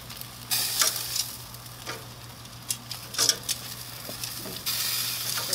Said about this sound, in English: let this fat continue to render off these wings for about 20 more minutes